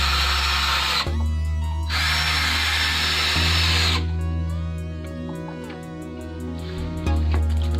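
A power drill drives 35 mm screws into pallet wood for planter boxes: loud, close motor whine in sustained bursts that stop and restart, with short pauses between screws.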